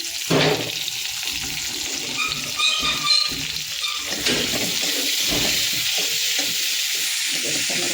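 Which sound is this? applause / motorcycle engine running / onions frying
onions frying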